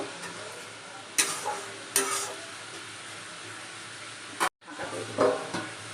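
Fried prawns and water go into a sizzling masala in a pan, with a few sharp spoon knocks and bursts of stirring over a continuous low frying hiss, and a brief cut-out near the end.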